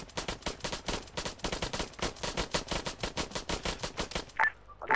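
Rapid automatic gunfire in a video game, loud and continuous bursts of shots fired at a roadside bomb on a road, ending with a couple of sharp isolated shots.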